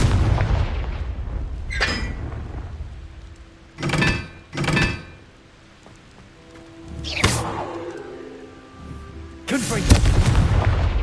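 Confringo blast spells from Hogwarts Legacy go off one after another, about five loud booming bursts spread unevenly over the span, each with a sharp crack and a short rumbling tail over quieter game ambience.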